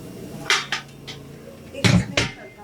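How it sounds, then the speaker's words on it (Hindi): A metal kadhai pan is set down for tempering, giving a few sharp clanks and clinks in quick succession, close and fairly quiet in a kitchen. "कढ़ाई रख दीजिए इसके ऊपर, तड़के का पैन है ना वो दे दीजिए"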